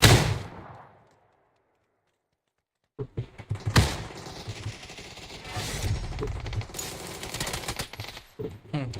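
Gunfire from an SKS rifle in a shooter video game: a burst of sharp shots at the start, a short silence, then a dense stretch of loud overlapping shots and impacts.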